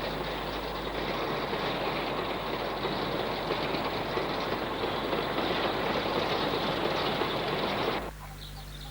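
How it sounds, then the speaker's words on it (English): A Black 5 steam locomotive runs south over Shap on the fell railway, a steady loud rumble of wheels and carriages close by that holds for about eight seconds, then cuts off sharply into a quieter hum. "Another Black 5 goes south, passing a member of the short-lived Metrovic Type 2 Kobo diesels on the quarry working"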